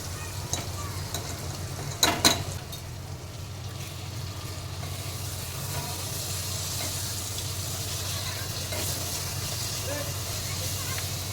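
Minced meat keema with red chilli, coriander and garam masala frying in a pan, a soft continuous sizzle with a brief clatter of stirring near the start, faint and steady.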